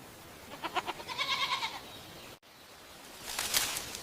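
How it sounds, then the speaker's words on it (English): A goat bleats in a short wavering series of cries at moderate distance, followed by a pause and then a brighter bleat or call near the end. "This is a goat."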